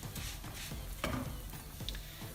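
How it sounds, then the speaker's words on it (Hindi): Vermicelli (seviyan) roasting in oil in a pan: a faint, soft sizzle broken by light stirring scrapes. "थोड़ा सा भुनेंगे इसको, और इसका कलर तो नहीं चेंज होता, लेकिन ये है कि सवैयाँ थोड़ी सी हम पका लेंगे"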